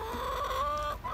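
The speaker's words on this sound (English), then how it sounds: "Here we go, I got a chicken." A backyard chicken clucks close to the microphone, a short run of rising, drawn-out clucks over faint background noise.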